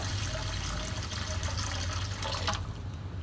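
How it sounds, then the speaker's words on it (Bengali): Water pours steadily into a pot of cooking curry with spiced cabbage, producing a continuous close splashing hiss that tapers off near the end. "দেখো আমি অনেকটা জল দিয়ে দিচ্ছি, আমার যতটা প্রয়োজন ঝোলের।"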